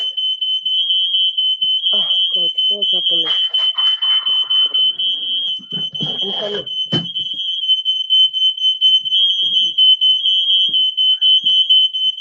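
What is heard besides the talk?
fire alarm sounding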